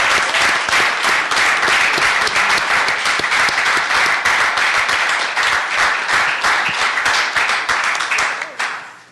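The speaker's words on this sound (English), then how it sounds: "Give Mark a big hand here" A loud, close crowd applauds Mark Adams of World Airports at a trade, commerce and tourism meeting, with brisk dense clapping that holds steady and then tapers off sharply at the end.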